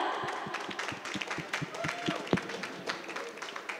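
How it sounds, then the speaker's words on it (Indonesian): Scattered hand clapping at a workshop in a mosque library, sparse, uneven claps rising to a few sharper ones, with voices and crowd murmur running underneath. "Tepuk tangan dulu dong,"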